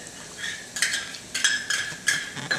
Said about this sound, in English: We're sauteing onions.